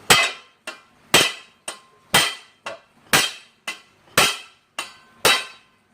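Hard metallic hammer blows on a bent SYM VF3i motorcycle rim being knocked back into round, about a dozen sharp ringing strikes in steady rhythm, alternating louder and softer, close and alone.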